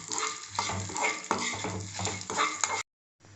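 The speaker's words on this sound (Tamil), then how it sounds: "இந்த காஞ்ச மிளகாயை சேர்த்துருவோம் சேர்த்து இதோட கூட நம்ம இஞ்சி சேர்த்துருவோம் நம்ம இஞ்சி சேர்த்து வதக்கிக்கலாம்" Dried red chillies and ginger sautéing in hot oil, a busy crackling sizzle with repeated stirring scrapes of a spoon against the pan, followed by a brief silence.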